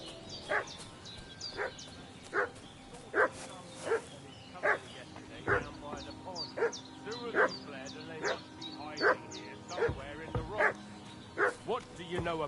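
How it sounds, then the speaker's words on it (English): A dog in a video game barks over and over at fairly even intervals, sharp mid-distance yaps across the scene, while voices talk over the game sounds. "C'è il cane che abbaia."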